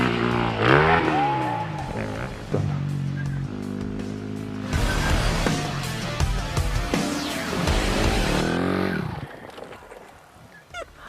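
A motorcycle engine revs hard at high pitch during jump practice, rising and falling sharply, loud and close, with brief gaps between bursts.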